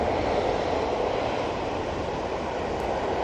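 A Boeing 737 rolls for takeoff at Manchester Airport bound for Palma de Mallorca, its engines a steady, dense broadband roar heard from a distance without letup.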